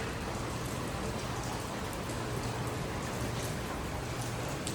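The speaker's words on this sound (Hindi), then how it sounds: "देखो गाइस कितनी तेज बारिश आ रही है।" Heavy rain with hail pours down steadily, a dense continuous hiss of drops drumming on surfaces at close range with no talk over it.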